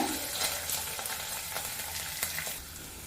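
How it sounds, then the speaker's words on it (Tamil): Onion, garlic and curry leaves sauté in a pan, a continuous close sizzle with soft scraping stirs and small clicks throughout, no voices. "வெங்காயம் வந்து நல்லா பொன்னிறமாக வதங்கணும் அது வரைக்கும் வதக்கிக்கோங்க"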